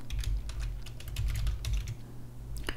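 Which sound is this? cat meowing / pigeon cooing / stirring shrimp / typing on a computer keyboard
typing on a computer keyboard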